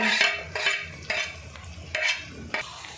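Green chilies and onions frying in a pan for a mutton curry, with a low sizzle beneath roughly five sharp scraping stirs of a spoon, evenly spaced and close by.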